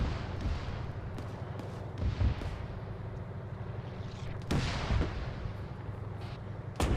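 Artillery rounds firing in the distance, a few dull booms around 2 and 4.5 seconds rising above a constant low rumble of wind or engine noise, no voices.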